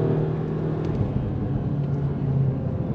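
Audi S3 driven briskly through a series of curves, a steady, loud engine drone and road rumble heard from inside the car, with a faint tonal whine and no talking.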